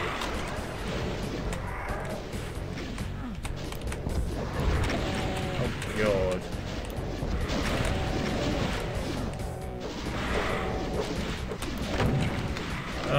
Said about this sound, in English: there's a Rev Rocket trying to chase after me